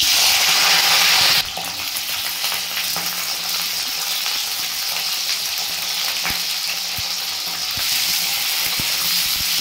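Cauliflower pieces dropped into hot oil in a wok burst into loud sizzling, which settles into a steady close hiss of frying with occasional stirring clicks and no talking.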